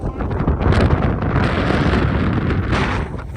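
Strong, steady wind buffeting the microphone on the coast at Pointe-du-Chêne, New Brunswick, a dense low roar lasting throughout with no speech.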